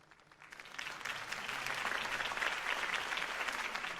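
In the Batman Telltale video game, a crowd applauds after Harvey Dent's campaign speech. The clapping swells quickly from quiet to a full, steady wash and holds at a distant, moderate level.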